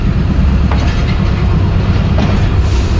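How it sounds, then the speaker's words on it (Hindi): Shalimar Express (28 Down) pulling out of Faisalabad railway station in Pakistan, a steady loud rumble of wheels on rails with rhythmic clickety-clack joints and a continuous low drone throughout. "फ़िलहाल फैसलाबाद और उसके रेलवे स्टेशन से रवानगी हो रही है 28 डाउन शालीमार एक्सप्रेस की"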